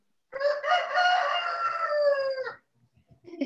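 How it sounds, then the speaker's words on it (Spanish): A rooster crows once, loud and close, in a long wavering call of about two seconds, followed by brief faint sounds afterward. "Ese gallo es muy feliz."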